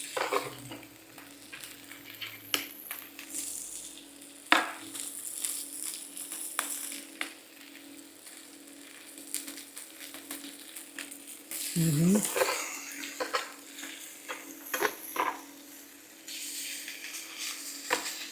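Steak searing in a frying pan gives a steady low sizzle with occasional utensil clinks and scraping, while a person talks over it throughout.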